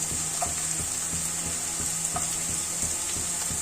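Cashews fry with lightly browned onions in oil for ragi vermicelli upma, making a steady, bright sizzle with rhythmic scraping stirs repeating about twice a second, close and continuous, with no talking.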